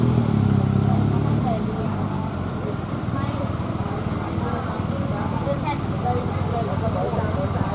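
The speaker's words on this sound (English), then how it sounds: "Those are big motorbikes." Big motorbikes pass along a road on a trip toward Cambodia, a steady close engine rumble and traffic roar that continues throughout, with people talking underneath.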